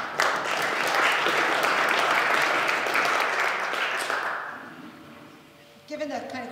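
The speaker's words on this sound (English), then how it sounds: "A round of applause for all of us that are doing this work together." Applause from a socialist forum audience in New York City, a full burst of clapping that swells quickly, holds for several seconds and then fades out, followed by a brief voice.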